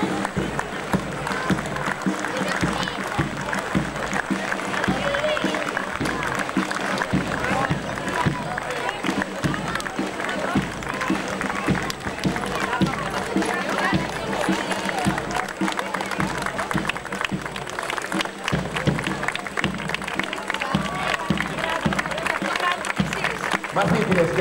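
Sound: crowd applauding students at the parade

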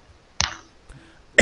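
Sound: cough

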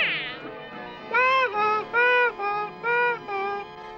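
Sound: cat meowing in a Smurfs cartoon

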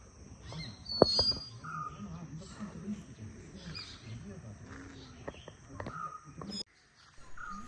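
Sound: birds calling in a garden, parrots and sparrows

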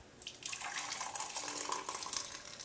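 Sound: herbal tea poured back into a measuring cup

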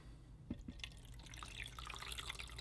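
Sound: water being poured into an ultrasonic cleaner tank

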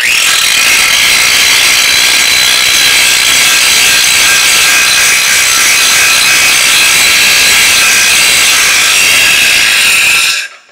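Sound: grinder removing mill scale from steel

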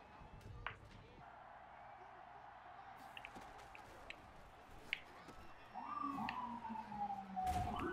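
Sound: ambulance siren going off

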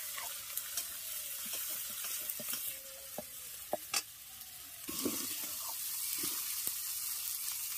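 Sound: ginger paste frying in hot oil with turmeric

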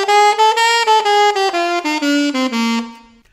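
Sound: saxophone playing bebop scale quavers with jazz swing

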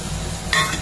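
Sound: stirring potatoes and spices in chicken curry pot

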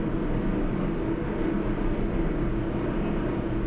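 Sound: New York subway 4 express train running

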